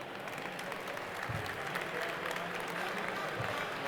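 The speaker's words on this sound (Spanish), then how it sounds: "un gran aplauso para Eduardo Mangarelli" Audience applause at a Campus Party technology event for a speaker on generative AI, a steady wash of clapping heard fairly faint and distant throughout.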